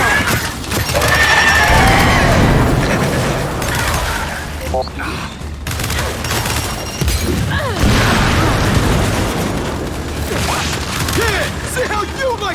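Heavy turret gunfire in the video game Gears 5, sustained bursts of loud, dense shooting mixed with crashes and impacts, with shouting voices over the battle.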